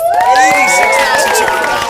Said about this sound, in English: Come on, let's give a huge round of applause.